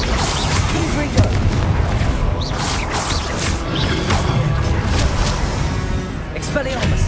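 Spell combat in the video game Hogwarts Legacy, with the Confringo blasting spell setting off booming explosions, crashes and whooshes. A voice shouts spell names over the dense, continuous battle noise.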